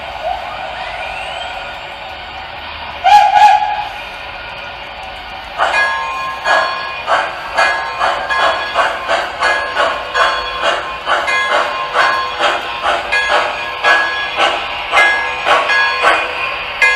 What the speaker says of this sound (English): The next locomotive up is number 3, Roger E. Brogy. So let me bring him around here.